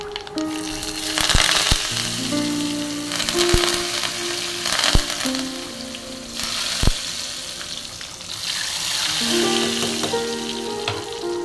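Mustard seeds and cumin crackle and sizzle steadily in hot oil in a pan while sambar is cooked, with scattered sharp pops over a continuous loud frying hiss.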